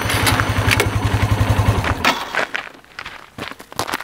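A motorcycle engine runs with a rapid, throbbing idle for about two seconds, then cuts off, leaving scattered clattering knocks and scuffs nearby.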